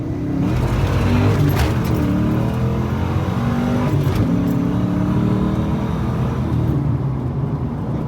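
Car engine running while driving, recorded from inside a car that runs poorly when cold and pops through the exhaust; a steady, loud engine drone with road whir holds throughout without speech.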